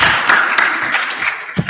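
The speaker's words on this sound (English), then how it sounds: "Round of applause for all of you." Brief applause from a conference audience of students, a burst of scattered clapping that thins out toward the end.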